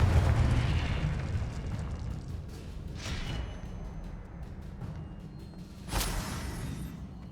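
Fiery Confringo blast curses in Hogwarts Legacy: a rolling, rumbling explosive roar with two sharper bursts partway through, loud and continuous.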